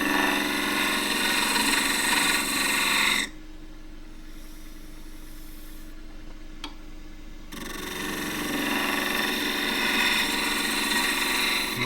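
A wood lathe turns a fairly large-diameter end-grain cup, giving a loud, steady broadband cutting roar that drops away for a few seconds mid-clip and then builds back up.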